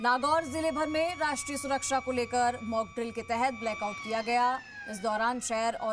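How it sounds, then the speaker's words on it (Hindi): An emergency siren sounds during a blackout mock drill in Nagaur district, a steady, sustained tone held under a reporter's continuous close narration. "और ये सायरन की आवाज़ भी आप सुन सकते हैं।"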